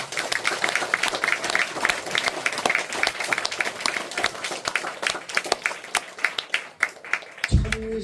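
A congregation claps at an inauguration ceremony at a church, a lively burst of many hands that thins toward the end into scattered individual claps.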